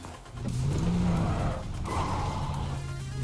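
A car in the video game PUBG drives with a steady engine drone and a brief tire-skid rasp; the sound is loud and continuous, with no talking.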